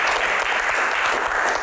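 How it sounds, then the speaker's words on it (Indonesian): Dense, even applause from a studio audience fills the room, a continuous wash of many hands clapping at a steady loudness with no voices over it. "tepuk tangan"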